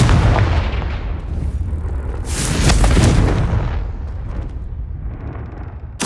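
A Confringo fire spell from Hogwarts Legacy detonates in a loud, rumbling blast with a roaring swell of debris noise, then fades into a lingering low rumble, close and without speech.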